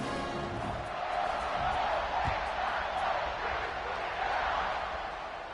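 A football stadium crowd roars during a kickoff, a dense, steady wash of cheering that swells slightly and holds loud for the whole stretch.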